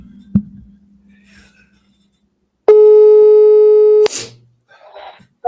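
A telephone call placed live on a radio talk show gives one long steady electronic ringback tone lasting over a second, clear and loud, preceded by faint clicks and low background hum.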